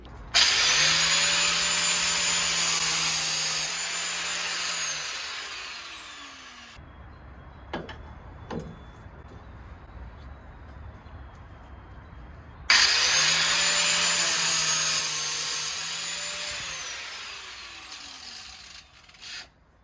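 A power sander with a 120 grit disc grinds loudly against a metal wrench being restored in two long runs, with a quieter pause and a few clanks between them.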